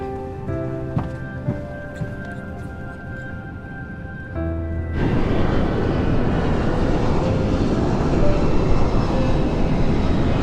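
Steady, loud engine roar fills an airliner cabin in flight. It follows a few seconds of quieter tonal sound and then holds constant to the end.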